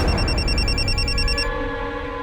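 An outgoing phone call rings, a bright repeating electronic ring tone sounding for about a second and a half before cutting off, leaving a faint steady tone underneath.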